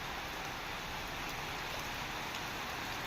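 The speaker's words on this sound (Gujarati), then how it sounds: "તો જોઈ લો વરસાદ કેવો ચાલુ છે આપણા ત્યાં." Heavy rain falling outside during a downpour, a constant, even hiss of rainfall heard from nearby without any break.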